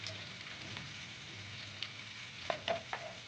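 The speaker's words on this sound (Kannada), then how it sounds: "ನಾವು ಹಾಗೆ ಬಿದ್ದಿಟ್ಕೊಂಡಿರುವಂತಹ ಬೆಳ್ಳುಳ್ಳಿ ಹಾಕೋತಾ ಇದ್ದೀನಿ" Garlic dropped into hot oil in a pan while cooking bisibele bath gives a steady close sizzle, with a few sharper pops and spatters toward the end.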